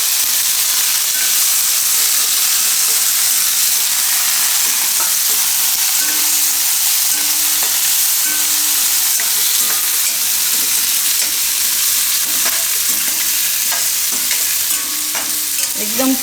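Water chestnuts sizzle loudly in hot oil with asafoetida and curry leaves, a continuous frying hiss with occasional stirring scrapes and crackles close to the pan.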